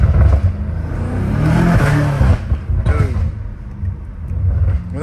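A catless BMW M5 Competition roars nearby as it revs hard and shifts, with a loud, raspy exhaust that swells, drops and surges again in rough bursts.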